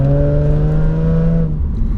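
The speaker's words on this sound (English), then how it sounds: "you do get that V6 soundtrack" A Subaru Legacy's V6 engine with a raspy, decatted exhaust holds a loud, steady drone and then drops away as the revs fall, recorded close up.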